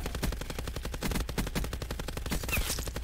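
Rapid bursts of automatic gunfire in the video game GTA during a multiplayer firefight, dense repeated shots rattling close and loud without pause.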